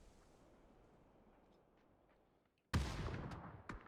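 A grenade blast in PUBG during a competitive esports match, a sudden loud explosive burst after a quiet stretch of distant ambience, followed by a couple of sharper cracks as the blast rings out.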